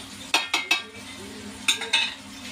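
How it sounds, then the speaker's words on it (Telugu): Goat head and leg curry with turmeric stirred in a pan: a few close metal scrapes and clinks of a spoon against the pan come in two short bursts, over a low steady hum. "ఇలా తిప్పాలి, కలపాలి బాగా."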